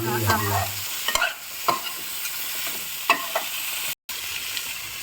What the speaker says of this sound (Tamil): இதை கொஞ்சம் நல்லா வதக்கி விடணும்